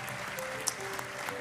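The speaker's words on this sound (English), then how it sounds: "Let's all give God a great hand clap of praise." Church revival congregation claps hands in praise, a brief, steady wash of many hands clapping at moderate volume, heard on its own.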